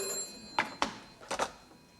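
A telephone bell ringing in two short double bursts, loud and close, with brief pauses between rings in a quiet room.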